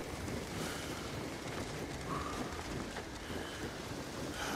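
Gusty wind sweeps across a wintry landscape in Assassin's Creed Shadows, a steady broad rushing roar that swells slightly and never lets up, with no speech over it.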